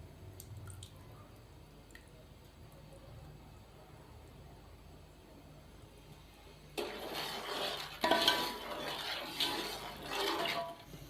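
Cooking oil, about 400 ml, pours into melted sugar syrup in a pot for sweet zarda rice, a sudden steady hissing, gushing wash beginning after a quiet stretch and continuing loudly to the end.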